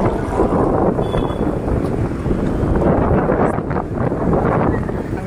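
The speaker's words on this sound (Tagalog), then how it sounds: "Hangin." Strong wind buffets the microphone of a GoPro Hero11 in a continuous loud, rough roar across the whole stretch, with no clear voices.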